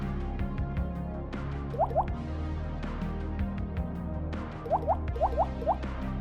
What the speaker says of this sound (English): As always, a little flow improver first.